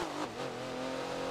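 A race car engine in the Forza video game accelerates on a reverse track in Rio, a steady rising drone that fills the moment without a break.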